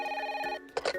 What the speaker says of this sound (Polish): Dzwoni telefon.